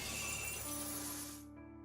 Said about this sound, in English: The chains are broken.